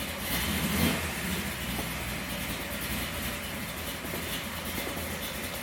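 A vehicle engine on its first spring start-up struggles to hold an idle, giving a steady, rough low rumble with a slight swell near the start, heard alone and fairly close.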